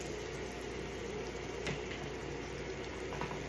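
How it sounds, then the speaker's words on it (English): Steady, close sizzling hiss of chicken frying in a hot pan, with faint crackles and no talking. "So you can hear that sizzle."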